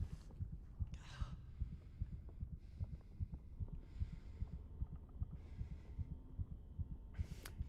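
A steady, muffled heartbeat thumps at a regular pace in the Silent Hill video game, low and close under a faint ambient hum, with no talking.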